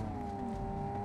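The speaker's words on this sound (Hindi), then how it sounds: "गाड़ी का आवाज देख कैसे हो रहा है।" A car engine in the BGMI mobile battle royale game hums steadily at a constant pitch, a continuous droning motor tone with no talking.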